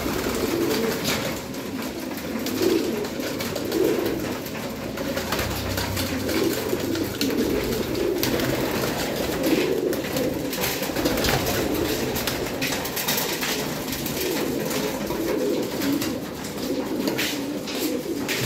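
Caged breeder pigeon cooing repeatedly in a low, throaty rhythm across the whole stretch, steady and fairly close, with a constant background hum and no talking.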